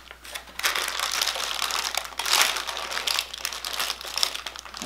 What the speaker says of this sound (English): I'm going to go ahead and take the parchment paper off.